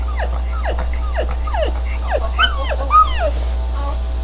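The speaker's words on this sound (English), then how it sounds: "He's a really sweet dog. Basset Hound, something mix." A basset hound mix dog whimpers and yips in a rapid series of high, whiny cries, close and fairly loud over a steady low hum.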